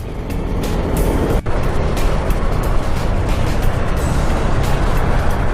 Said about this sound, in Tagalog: Mabibilis ang mga sasakyan dito